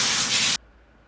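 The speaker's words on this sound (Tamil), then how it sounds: "ஸ்ப்ரே யூஸ் பண்ணி நல்லா ஷைனிங்காக ஆகிறதுக்கு கிளாஸ் எல்லாத்தையும் க்ளீன் பண்ணுறாங்க" A cleaning spray hissing onto car glass at a car wash, one loud, close burst of about half a second that cuts off abruptly.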